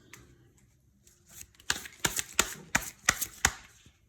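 Tarot cards being shuffled up close, with a quiet start followed by a string of about seven crisp riffling snaps at a steady rhythm, fairly loud, and no talking.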